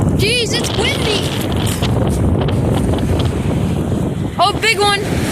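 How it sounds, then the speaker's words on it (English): Strong wind blows steadily across the microphone at a beach with waves, a loud continuous rush throughout, while excited voices and shouts come through near the start and end. "Jeez, it's windy!"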